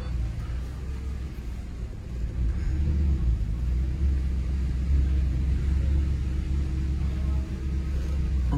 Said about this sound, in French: je suis à bord de l'Audi R8, je vais la rentrer dans le showroom